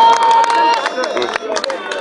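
A large audience at the Maan Boli Jalsa Punjabi gathering in Lahore, 2021, claps to welcome a kabaddi team captain: dense, steady applause fills the space, mixed with crowd murmur and voices talking over it.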